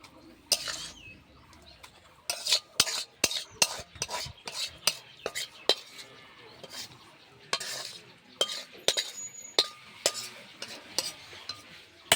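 Cooked bottle gourd (lau) curry being scooped from a pot into a bowl, a long run of sharp, irregular spoon-on-metal clinks and scrapes, close and fairly quiet.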